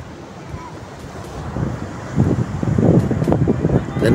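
Ocean waves surge and wash in over a reef at Tanjung Layar beach, Sawarna, Indonesia, building louder toward the end, with wind buffeting the microphone.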